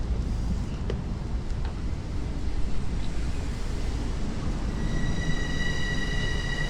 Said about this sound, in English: 2063 is coming into the station right now